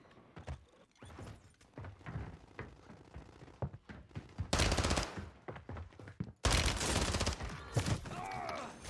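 Bursts of automatic SMG gunfire in a Warzone 3 match on Rebirth Island, two long loud volleys mid-clip amid scattered shots and thuds.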